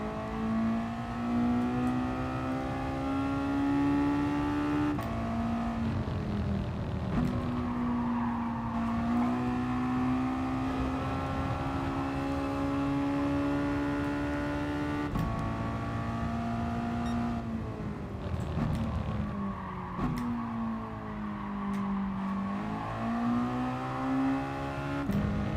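Mazda touring car engine in GT Sport racing around a track, a continuous high tonal drone that rises and falls with acceleration and braking, with gear shifts and off-throttle dips, no talk.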